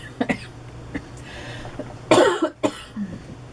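A few close, sharp coughs, including one harsh burst in the middle, with some throat noise between.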